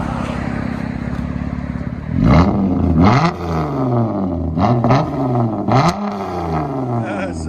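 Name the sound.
Chrysler 200 3.6L V6 straight pipe exhaust revving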